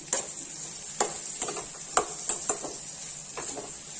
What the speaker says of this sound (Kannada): ಈಗ ಈರುಳ್ಳಿ ಸ್ವಲ್ಪ ಫ್ರೈ ಆಗಲಿ ಚೆನ್ನಾಗಿ